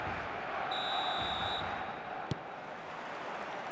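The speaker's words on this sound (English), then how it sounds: "There's the whistle, and here we go." A referee's whistle blows one clear, sustained blast of a little under a second to start an eFootball match between Barcelona and Alavés. It sounds over a dense, steady stadium crowd roar, with a faint thud after it.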